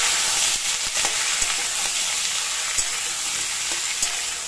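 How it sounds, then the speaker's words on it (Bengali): Mixed vegetables fry hard in a pan for a leafy greens dish. A dense, loud, continuous sizzle fills the whole stretch, with light clicks of stirring now and then and no voices. "এইগুলো সবজিগুলো একটু যেই ভাজা ভাজা হবে"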